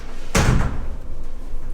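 A glass shower door in a hotel bathroom closes with a single sharp, loud thud that fades quickly against steady room noise.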